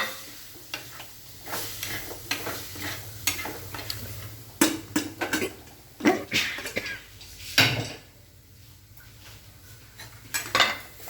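Beef, precooked in a pressure cooker, sizzles in a pan with onions, turmeric and spices while a spoon scrapes and clanks against the metal in irregular bursts, close and fairly quiet.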